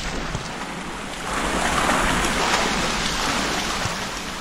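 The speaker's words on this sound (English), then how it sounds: "walking down these waterways unable to see anything and just hearing fast splashing water" Fast splashing water echoing through dark waterways in the video game Resident Evil Dead Aim, a continuous, fairly loud rush that surges slightly after the first second.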